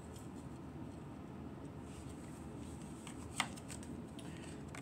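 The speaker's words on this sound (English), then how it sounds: "Cards are shuffled." Tarot cards are shuffled in a faint, soft, continuous riffling rustle, with a sharper snap of cards partway through and no talking.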